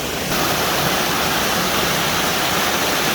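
Igdugang Falls waterfall in Laua-an, Antique, a loud, steady broadband roar of rushing, crashing water heard close up, continuous and unbroken, with no voices.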